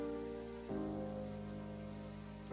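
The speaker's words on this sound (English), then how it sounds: "A toxic downpour falls over the wasteland seas." Steady acid rain pours down continuously over wasteland seas in the Terraria Calamity mod, a dense hiss with a low tonal hum beneath it, shifting slightly partway through.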